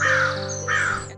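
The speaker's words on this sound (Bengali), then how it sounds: "গ্রামে মানুষের ঘুম ভাঙে মোরগের ডাকে, আর শহরে কাকের চিৎকারে।" Crows cawing in a city, two long harsh caws in close succession, loud and near, with a steady low hum beneath them and no voices.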